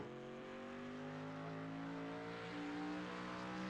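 A street stock race car on a track, its engine droning steadily with a rising pitch as it accelerates toward the start-finish line, loud and continuous with no break.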